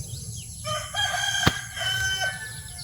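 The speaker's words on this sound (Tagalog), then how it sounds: "Ang daming manok busy dun." Roosters crow and chickens cluck in a busy farmyard, several birds calling over each other at moderate distance with a steady outdoor background.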